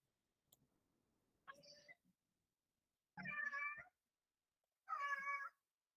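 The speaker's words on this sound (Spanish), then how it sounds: "Si escuchan un gato, no es mío, es de mi santa madre" A cat meows several times in a room, with a faint first call followed by two louder, clear meows about two seconds apart, each close and distinct, with light ticking in the background.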